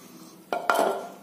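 Goat meat being washed in a metal pot, with two sharp clanks and a short splashing clatter of water and metal.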